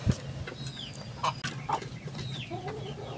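Rhode Island Red and upgraded native hens cluck softly nearby in a farmyard, with a few short, scattered calls over a steady low background hum.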